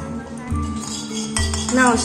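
A metal wok clunks down onto a stove with a few clinks of cookware while a person talks over the kitchen noise.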